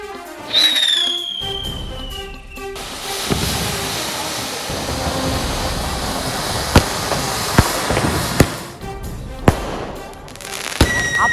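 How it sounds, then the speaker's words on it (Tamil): Diwali firecrackers and fireworks burst outdoors: a whistling rocket rises first, then a continuous crackling roar punctuated by several sharp loud bangs, with people's voices faintly in the mix. "பட்டாசு வெடிக்க இறங்க போகிறோம்."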